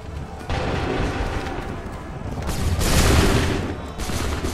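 Musket volleys in a recreated Battle of Lexington from Assassin's Creed III Remastered: repeated rolling gunfire bursts swell into a heavy, booming crescendo near the three-second mark.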